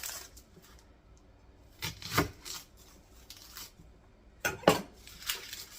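A knife slicing an onion on a board in a home kitchen, with a few separate soft chopping and rasping strokes that come in small clusters, faint and close, no talk.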